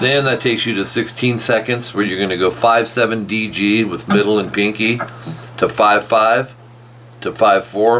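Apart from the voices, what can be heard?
None of the usual background noises is heard.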